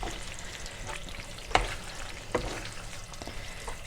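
Feta and smoked salmon pasta being stirred in a pan: a soft steady sizzle with a couple of distinct spoon knocks against the pan, close but fairly quiet, with no voices.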